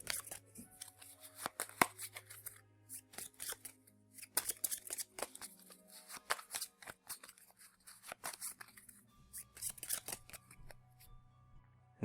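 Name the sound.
shuffling a deck of board game cards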